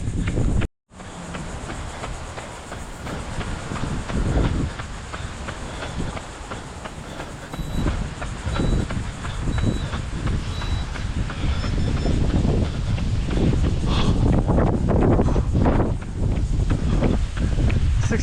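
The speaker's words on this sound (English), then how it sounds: "We got some wind gusts, residual from the storm" Strong wind gusts left over from a storm buffet the microphone during an outdoor run, a loud, continuous roaring rush that swells and surges for the whole stretch.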